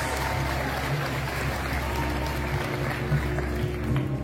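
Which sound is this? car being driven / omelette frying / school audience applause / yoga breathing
school audience applause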